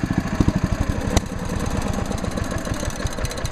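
A 1965 Simplicity Landlord 101 lawn tractor engine running close by, a steady chugging idle with rhythmic thumping pulses that smooths into a faster, even drone, loud with no talk.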